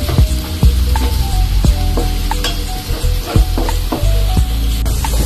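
Garlic browning in butter in a pan for garlic buttered shrimp, giving a steady close sizzle and crackle with occasional clinks of a utensil stirring against the pan, with no talking.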